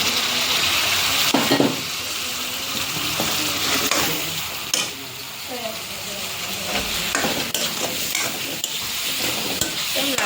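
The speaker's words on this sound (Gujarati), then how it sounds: "પનીર તળવા મૂકી દીધું છે ઘીમાં" Paneer frying in ghee with ginger, chillies and garlic sizzles continuously in a pan, with stirring scrapes and occasional clinks close by.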